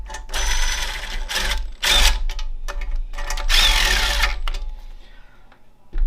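A power tool runs bolts down on a GM 6T70 transmission during a rebuild, producing loud, close whirring bursts that start and stop several times over a low steady hum.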